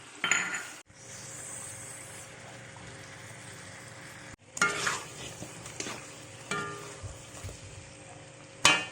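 Onions fry in a pan for ayam kecap jeruk limau, a soft sizzle under repeated metal scrapes and clinks of stirring that come in short bursts, with a louder knock near the end.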